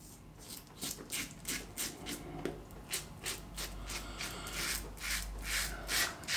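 Rockwell 6S safety razor with a polished finish scraping through stubble in close, steady rhythmic strokes, each pass a crisp rasping rub repeated about a dozen times with no talking.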